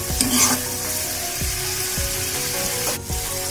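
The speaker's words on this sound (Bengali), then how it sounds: "এবার সমস্ত গ্রেভিটাকে খুব ভালোভাবে নাড়াচাড়া করে দিচ্ছি।" A spoon stirs a yogurt-based gravy for Bengali doi bhetki in a hot pan, making a steady sizzle with a few soft scraping strokes against the pan, close and with no voices.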